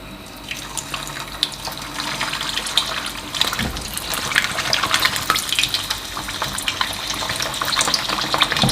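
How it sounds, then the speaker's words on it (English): Pork leg skin frying in hot oil in a pan gives a steady, close crackling sizzle with scattered pops and some stirring, loud and continuous throughout with no talking. "So you need to fry only the skin, around the skin."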